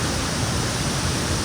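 Rushing water at Ethipothala waterfall, swollen by rain, forms a loud, dense, unbroken roar that fills the whole moment without pause.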